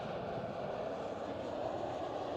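A British Airways Embraer jet at Schiphol airport, a steady broadband engine roar held at constant loudness throughout, moderately distant with no talking.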